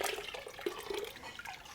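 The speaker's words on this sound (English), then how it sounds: "Adding some straight up boiling water." Boiling water poured into a pot of cheese curds while making Edam, a quiet, steady liquid rush and splash running through the whole short moment.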